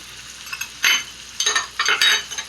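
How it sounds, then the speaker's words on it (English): Steak frying in a hot pan, a steady close sizzle broken by several bursts of spattering and metallic spoon scrapes as butter is basted over the meat, no voices. "So I'm gonna let that sit so the bottom part of that steak start cooking."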